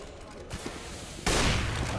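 Gunfire in a professional Counter-Strike match on the de_overpass map: a loud, dense burst of shots cuts in midway over a steady background hum and continues to the end.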